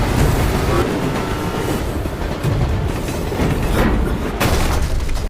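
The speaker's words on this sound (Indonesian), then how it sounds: "menyusul kereta yang baru saja berangkat ke Delhi" A train rumbles steadily with low rolling noise and occasional clanks, loud and close throughout, likely set under a dramatic soundtrack.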